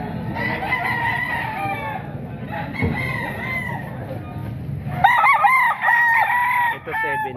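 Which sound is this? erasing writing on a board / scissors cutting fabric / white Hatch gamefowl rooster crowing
white Hatch gamefowl rooster crowing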